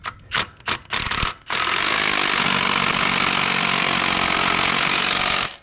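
Several short mechanical bursts from a hand tool, then a long steady loud buzzing rattle, as nuts are run onto an L67 engine mount bolted to a tubular subframe in a garage.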